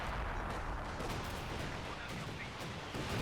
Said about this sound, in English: We've got breakthrough just coming, or assault artillery, I'm sorry, coming through in the middle here.